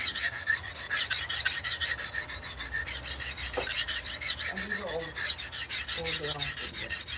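A blade is sharpened with a file in fast, even, rasping strokes, close and loud, with brief faint squeaks and clinks mixed in toward the end.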